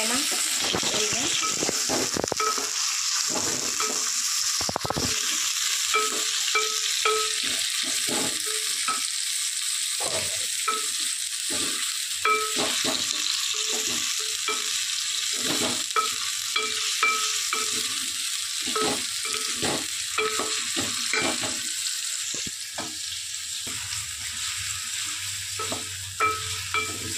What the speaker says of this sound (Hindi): देखिए गैस शलजम को अच्छे से मिक्स कर लेना, सही है।